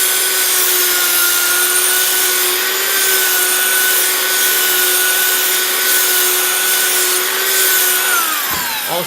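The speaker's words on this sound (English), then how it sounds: "So again, my trusty sander." An electric sander runs continuously on a soft Ford Bronco body panel, a loud, steady whining drone with a slight wavering pitch that winds down just before the end.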